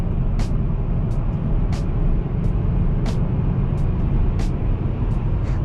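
A car drives at a lively pace along a wet road, with a steady broadband roar of tyres and engine running throughout. Brief higher hiss bursts rise above it every so often.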